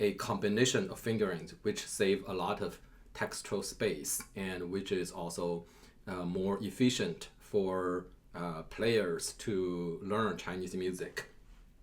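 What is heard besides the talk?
No distinct noise like a dog, phone or traffic.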